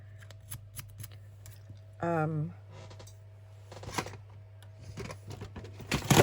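Small purple scissors snip paper in a crafting setup. Several sharp cutting clicks are scattered through the clip, with quieter handling noises between them and some faint background voice.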